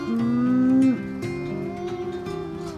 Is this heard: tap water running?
no